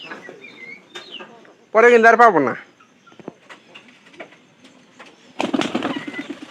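Pigeons kept indoors while suffering from a cold give a loud burst of cooing, then later a rustling flurry of flapping wings. Someone talks quietly between the sounds.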